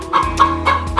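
A farmyard chicken clucks close by, giving four short, evenly spaced clucks in quick succession.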